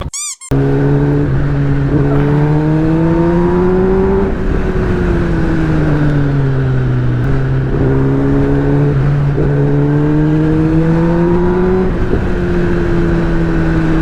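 A Kawasaki ZX10-RR motorcycle engine drones loudly and continuously while being ridden, its pitch climbing and dropping in repeated waves as it revs.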